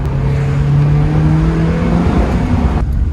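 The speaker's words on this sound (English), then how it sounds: "This is what they said to do, high RPM, so I'm just gonna continue this." An NB Mazda Miata engine is held at high RPM, giving a loud, steady, droning rev with a slight rise in pitch before it cuts off abruptly near the end, close to the car.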